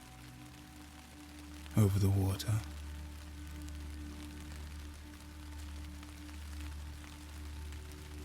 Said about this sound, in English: The rain has eased a little out over here